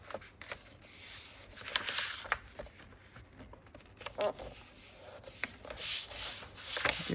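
Sheets of 12x12 scrapbook paper are folded over and pressed into creases while making a slimline journal, giving soft rubbing and sliding swipes with a few sharper crisp scrapes, close by and fairly quiet.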